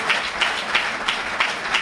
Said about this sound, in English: Let's give Sister Faja Muhammad a well-deserved round of applause.